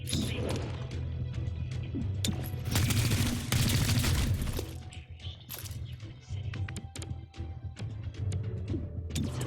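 Gunfire in the video game XCOM: Chimera Squad, bursts of rapid shots and crashing impacts mixed with game effects, loud in the middle and over a low music bed.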